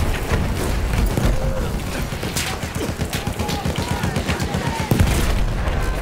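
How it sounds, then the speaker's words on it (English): Battlefield 1 combat with mortar fire, a dense stretch of rapid booms and gunfire crackle under a voice talking. "Mortar pop is real, man."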